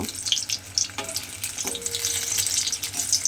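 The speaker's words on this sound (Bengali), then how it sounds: "দেখুন এইগুলো আমার লাল লাল করে ভাজা হয়ে গেছে" Potato peel fritters fry in oil with a crackling, bubbling sizzle. A few sharp clinks and stirring noises sit over the steady frying, and no one speaks.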